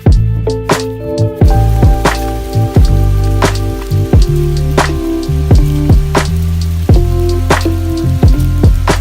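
Rain pattering on a surface while hiking the Appalachian Trail, with loud, close, irregular drops tapping steadily throughout over a soft background hiss.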